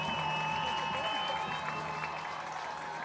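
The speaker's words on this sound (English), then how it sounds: "Crowd starting to get into it here below us." High school football crowd at a Cedar Rapids Xavier versus Waverly-Shell Rock game, applauding and cheering in a distant, steady roar heard from above with a faint tonal hum over it.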